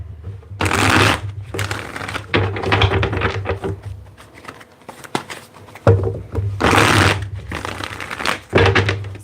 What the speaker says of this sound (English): Let's get one more good shuffle here.